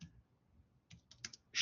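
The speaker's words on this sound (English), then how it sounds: "Oops, I'm just typing it in." A few quick, light keystrokes tapped on a computer keyboard while typing into Adobe Illustrator, sparse and irregular, close and quiet.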